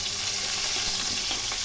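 Small rohu fingerlings fry in hot oil, giving a continuous close hiss and crackle of sizzling with faint stirring or pan noises, heard alone without any talk.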